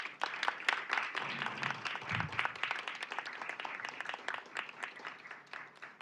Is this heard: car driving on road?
no